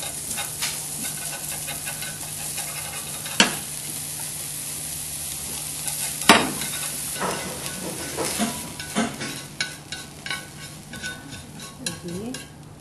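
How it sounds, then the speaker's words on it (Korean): Meat and shiitake mushrooms stir-fry in a pan for Korean bibim guksu, with a steady sizzle broken by sharp utensil clacks and scrapes against the pan, close and with no voices. "그 다음에 이제 고기와 표고버섯을 볶아주세요."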